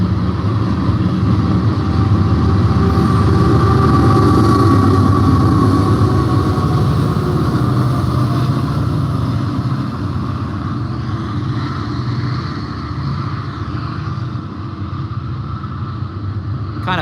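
BNSF freight train with AC4400CW and SD70ACe locomotives rumbles past at close range, a loud continuous diesel drone and rolling noise that slowly eases over about seventeen seconds.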